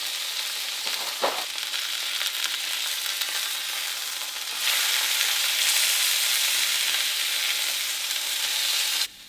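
Hamburger patty frying in a pan for a sandwich, a broad continuous sizzle that jumps louder about halfway through as the patty is flipped, then cuts off abruptly near the end; no talking.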